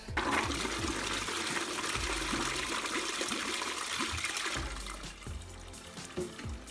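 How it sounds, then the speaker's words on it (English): A toilet flushes nearby with a loud rush of water that eases into trickling and refilling as the tank begins to fill. "Once I finish going to the toilet, I flush away"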